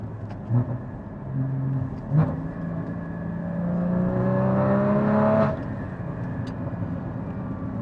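Porsche 981 GT4 engine with long tube headers downshifts, rumbling low with rising and falling rev sweeps and a swelling growl midway, heard from inside the car.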